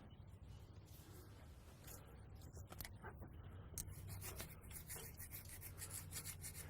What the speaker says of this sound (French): j'adore le bruit de la pierre au granit quand il frotte